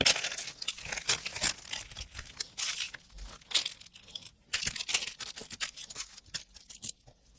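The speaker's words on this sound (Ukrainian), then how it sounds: "І зараз беру чистий папірчик." Sheet of clean paper handled during dressmaking of an eight-panel polka-dot dress, giving crisp crinkling, rustling and scissor-like snips in irregular bursts, close and fairly quiet with no talk.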